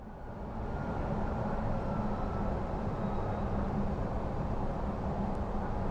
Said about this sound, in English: The sound of that train is awesome when it passes.